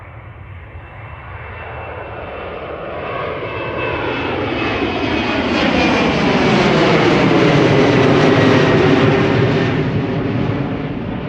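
A passenger jet passes close by at Amsterdam Schiphol Airport, with a loud, steady engine roar that swells over several seconds and shows the falling pitch sweep of a fly-by. No voices are heard.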